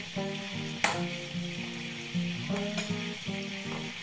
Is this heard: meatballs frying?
yes